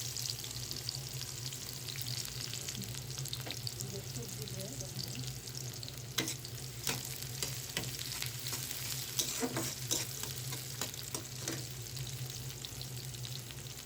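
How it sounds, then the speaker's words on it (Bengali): Chopped onion with a dried red chilli fries in oil, a steady low sizzle with scattered crackles and sharp pan taps, faint and close, with a constant background hum throughout. "দিয়ে দিলাম পেঁয়াজ কুচি"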